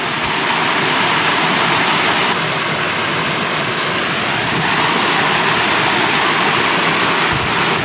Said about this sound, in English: What a beautiful little waterfall.